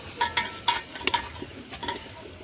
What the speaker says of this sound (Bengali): ডালটা নাড়া দে, জ্বলবে কেন?